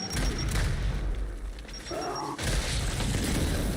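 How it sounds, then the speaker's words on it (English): Frag grenade blast in a war video game, loud booming rumbles that fill the mix, with a brief lull before another heavy blast rolls in. "Throwing frag!"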